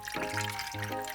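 Hot water poured from a kettle into a cup for after-meal coffee, a steady close liquid stream with a brief break midway.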